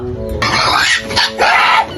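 A pig lets out loud, harsh grunts and squeals in two or three rough bursts that cut in after a brief quiet start, with a short dip between them.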